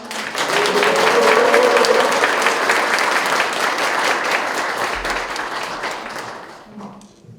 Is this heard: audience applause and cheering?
yes